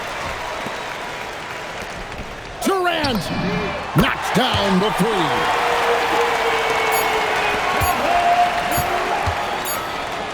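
Crowd applause and cheering from a home arena crowd in the NBA 2K26 basketball video game swell suddenly after a made three-pointer, loud and sustained, with shoe squeaks and a commentator speaking over it.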